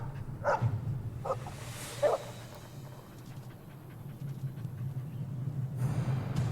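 A dog in the video game Dragon Age Origins gives a few short barks early on, in the first couple of seconds, over a steady low game hum, followed by quieter panting-like ambience.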